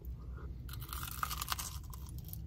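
Someone bites and chews a crunchy Taco Bell caramel apple empanada with fried dough, a series of close, crisp crunches and mouth sounds with no talking.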